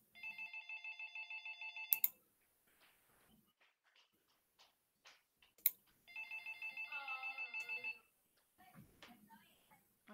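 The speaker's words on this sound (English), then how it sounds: "Mary, phone!" A telephone rings in two bursts of rapid electronic trills, one at the start and another a few seconds later, each cut off abruptly, with faint clicks and quiet sounds in the gaps.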